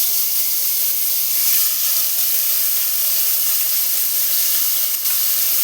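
Onion paste with a pinch of black cumin (kalo jeere) frying in oil for a Bengali fish curry, a steady, loud, even sizzle and hiss that runs unbroken throughout, with no talk over it.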